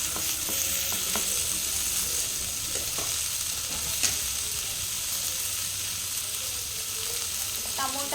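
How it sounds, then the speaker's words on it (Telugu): Tomatoes tossed into a hot pan with capsicum that is already frying, making a constant loud hiss and sizzle with a few stirring clicks and knocks, close by and without speech. "ఇప్పుడు టమోటాలు వేసుకుంటాం."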